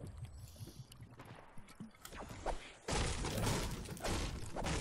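Something being struck and smashed in Fortnite, soft knocks at first, then a loud sustained crunching, shattering burst near the end.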